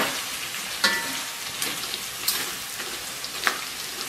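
Ginger slices frying in rendered pork belly fat in a wok, a soft continuous sizzle with a few faint clinks of stirring, quiet and close.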